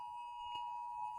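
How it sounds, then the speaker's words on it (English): A phone emergency alert tone for a silver alert holds a steady, loud electronic pitch with a strong overtone, continuous and unbroken, with no voices over it. "Was that an Amber Alert? It's a silver alert."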